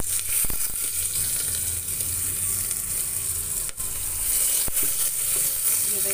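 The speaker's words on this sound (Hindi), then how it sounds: "अब हमें चावल इसमें डालना है।" Rice tipped into a hot pan for egg biryani sizzles and fries steadily at close range, a continuous crackling hiss with a couple of sharp knocks and no talking.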